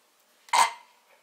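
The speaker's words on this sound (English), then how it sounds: "Stop burping at me." A single short burp from a person, a quick loud burst fading over about half a second, alone in an otherwise quiet room.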